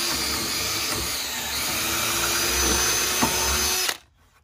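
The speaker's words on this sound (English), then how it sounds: "Make sure you hold your drill straight." A power drill bores a hole through a one-inch wood block with a high whine and rough rumble, then cuts off abruptly near the end, leaving quiet.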